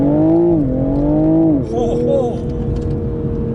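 Toyota GR Supra GTS sports car accelerating hard on a road, loud engine note rising through the revs, dropping at a gear change and then climbing again, with faint chatter over the top.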